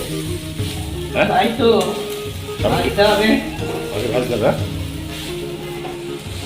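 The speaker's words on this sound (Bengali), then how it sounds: "এবার চাউমিনটাকে ভালোভাবে ভাজা চলবে তাই তো" Chow mein sizzles steadily as it fries in a small, heavily loaded pan, with stirring noises throughout while a couple of people talk over it at close range.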